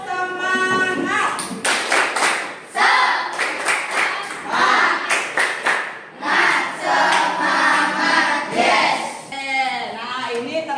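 A school science class performs a rhythmic group clapping chant, patterned bursts of claps alternating with shouted, sung words from many voices, loud and close throughout.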